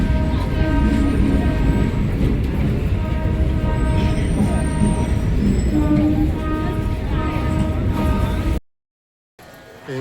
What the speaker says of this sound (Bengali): এইমাত্র ট্রেনটা ঢুকলো, এবার আমরা এই গাড়িতে উঠে পড়বো।